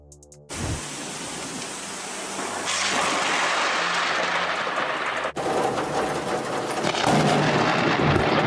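Thunder from a lightning strike bursts in suddenly and swells into a loud, sustained roaring rumble that briefly dips, then rolls on without speech.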